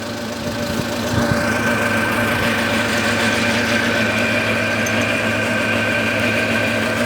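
A homemade electric generator runs steadily during a snowy winter power outage, giving a constant engine drone with a strong electrical hum that holds even throughout.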